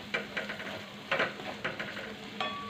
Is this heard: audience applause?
no